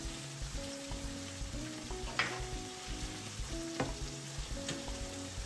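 Crab pieces hit a pan of fried spice masala for a crab curry, setting off a steady, close sizzle with rhythmic stirring scrapes repeating throughout.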